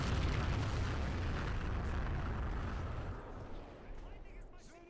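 Soviet fortress artillery in Men of War gives off a heavy, sustained roar of blasts that starts loud and fades over several seconds, with faint voices near the end.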